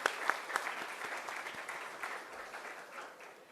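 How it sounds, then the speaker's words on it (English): Audience applause at a diplomacy and sustainability dialogue event, steady moderate clapping from a crowd that starts with a few sharp claps and continues evenly for a few seconds. "a big round of applause"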